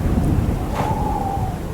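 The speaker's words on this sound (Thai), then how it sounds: "เชี่ยฟ้าผ่า" A lightning strike and thunder during a snowstorm in a video game: a brief crack cuts through a constant low, rumbling roar of wind and storm, with a faint trailing tone after it.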